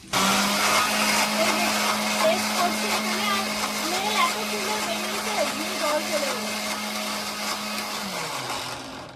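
A mixer grinder's small jar whirs steadily as it blends coriander leaves, garlic, green chilli, salt and mustard oil into chutney, a loud, continuous motor hum that winds down near the end, with a voice faintly in the background.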